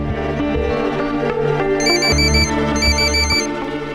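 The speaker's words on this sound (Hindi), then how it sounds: "वो बेल बज रही है लेकिन कोई फोन नहीं उठा रहा।" A telephone bell rings in repeated bursts in a domestic drama scene, loud and close over a steady musical bed.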